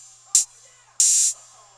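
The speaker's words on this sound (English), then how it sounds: "So there's 4 hat sounds." Hi-hat hits from a hip-hop beat, two bright, airy metallic bursts alone over a faint background, one short and one longer, sustained open-sounding hat.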